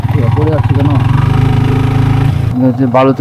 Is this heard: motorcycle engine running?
yes